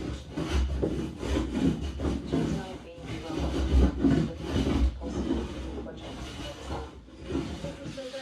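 Wooden work surface boards being sanded smooth outdoors at a cabin build: steady rhythmic rasping strokes, close and continuous, with brief pauses between passes.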